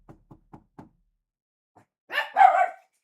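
A dog gives two short barks near the end, after a run of four soft, evenly spaced knocks and a quiet gap.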